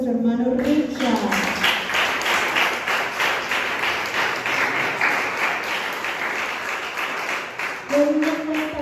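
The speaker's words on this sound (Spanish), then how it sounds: "recibamos con un fuerte aplauso a nuestro hermano Richard" A church congregation gives loud applause to welcome a brother, many hands clapping rapidly in a dense sustained burst, framed by someone speaking briefly just before and after.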